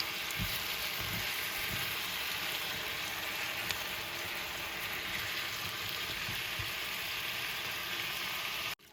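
Zucchini, half a red pepper, half a red onion and sausage frying together in a full pan, giving a steady, close, even sizzle that runs unbroken with no talking.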